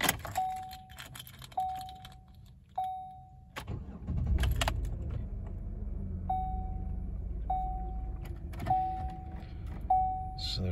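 A 2011 Chevrolet Impala turns over and starts, with repeated chimes ringing before and after the engine catches and a low idle rumble continuing beneath them.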